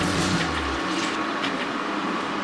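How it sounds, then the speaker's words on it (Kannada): Water pours steadily from a glass into a pot of rice, two glasses of water for one of rice for egg biryani, a continuous close rushing splash. "1 ಲೋಟ ಅಕ್ಕಿಗೆ 2 ಲೋಟ ನೀರು ಹಾಕೋತಾ ಇದ್ದೀನಿ."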